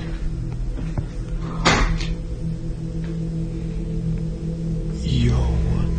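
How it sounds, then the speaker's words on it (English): An attic door opening, heard as a sharp knock or creak partway through and a low scraping shift near the end over a steady room hum. "The attic door mysteriously opens just as Nick approaches"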